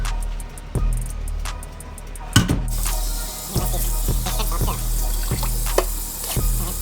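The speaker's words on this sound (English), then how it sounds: "I'm going to dump out the excess water." Excess water is poured out of a pot while shrimp are cooked in a kitchen: a steady splashing, running-water rush under a few sharp clanks and knocks of cookware.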